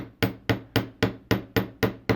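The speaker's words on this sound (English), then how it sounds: "I'm going to go ahead and use a chasing hammer. So we're going to just lightly hammer." A chasing hammer lightly taps a wire earring hoop for a heart-shaped earring, eight evenly spaced sharp metallic taps at a steady rhythm, close and clear with no talking.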